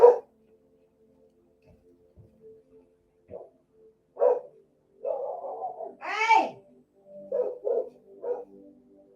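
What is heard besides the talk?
dog barking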